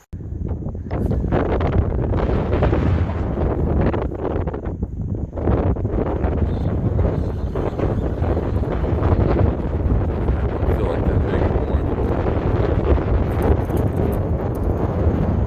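Strong, continuous wind buffeting the microphone while wade fishing on the Outer Banks, a loud low rumble that gusts steadily throughout with no voices.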